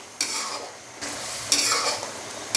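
Ghee being stirred in a karahi pan, a steady scraping swish of a spoon through hot fat with a light sizzle, coming in several close strokes with brief pauses between them.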